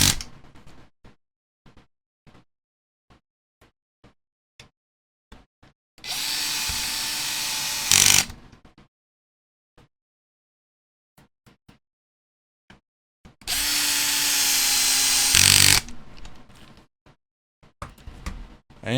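A power drill drives fasteners into a no-prep drag RC car chassis, mounting the ESC plate, top plate and mid mount from below, in two sustained whirring bursts of about two seconds each amid small clicks and handling noises.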